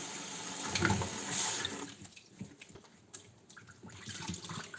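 Water splashes and runs over peeled cassava being washed in a basin, louder at first, then softer sloshing and dripping, close by, with no talking.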